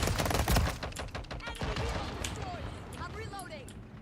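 Rapid bursts of gunfire from the video game Call of Duty Modern Warfare 3, dense and loud at the start and then continuing as sharp repeated shots, with a player shouting over the action.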